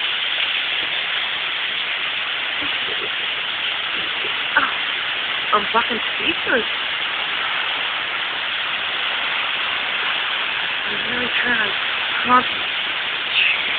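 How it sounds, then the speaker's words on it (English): Heavy April rain in North Carolina pours down in a constant, even hiss that fills the background, while a person talks over it in a few short bursts. "I've never seen it rain like this. It is pouring."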